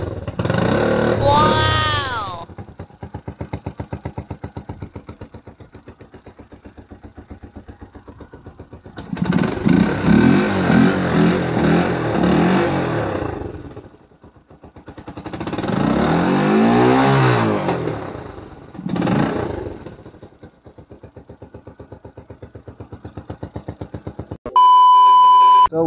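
A motorcycle, its exhaust refitted to the stock pipe, idles with a steady putter and revs hard in several loud bursts. A short beep sounds near the end, with no speech heard.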